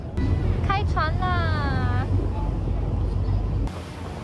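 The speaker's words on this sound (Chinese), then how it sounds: "哇，这个浪好大，好可怕啊！" A sightseeing boat crosses the rough, windy sea at the Naruto whirlpools in Tokushima, Japan, where loud wind buffets the microphone over a constant roar of water and hull, and a woman briefly exclaims.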